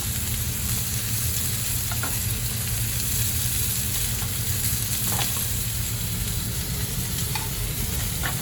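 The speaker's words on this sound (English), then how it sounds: "You have a nice little sizzle going on." Potatoes sizzle and crackle steadily in hot oil, a dense continuous frying hiss with occasional soft pops, close by and without speech.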